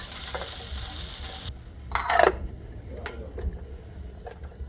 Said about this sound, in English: So we've got the onion frying off.